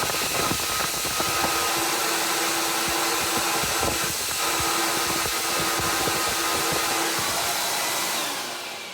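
A 1982 Hoover Powervac Wet&Dry S4266 vacuum cleaner runs with a steady, loud whining drone throughout, easing off slightly at the very end.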